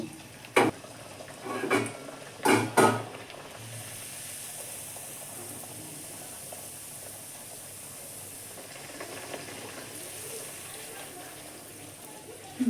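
Pea-stuffed kachori fries in hot oil, a soft steady hiss and sizzle carrying through, with a few sharp clatters and splashes near the start.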